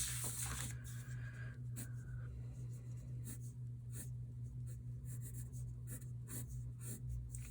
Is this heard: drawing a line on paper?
yes